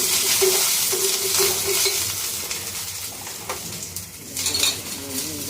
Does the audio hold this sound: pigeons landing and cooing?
no